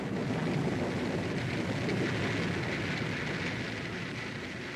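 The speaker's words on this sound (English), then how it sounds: "The sound of rain." Rain sound effect for radio drama, a dense, even hiss of falling rain that stays steady and loud for a few seconds with no other sounds.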